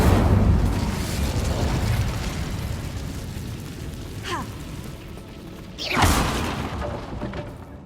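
Incendio fire spell cast in the Hogwarts Legacy video game, a loud rushing burst over dense in-game rumble, with a sharp whoosh midway and a stronger swelling blast near the end.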